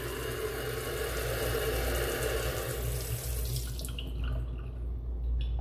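A kitchen water filter tap in a rented one-bedroom condo unit runs in a steady, close stream with a broad hiss. Near the end it tapers off as the tap is turned off.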